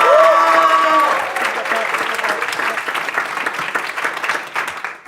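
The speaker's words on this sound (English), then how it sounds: "can everyone give us a big round of applause" A live podcast audience breaks into a big round of applause, loud and dense clapping with cheers and voices mixed in, continuing steadily throughout the recording.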